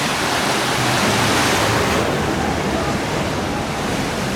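Loud, steady roar of rushing water filling everything, continuous and close with no breaks, from a river rapids ride at Efteling theme park, like a boat moving through churning rapids.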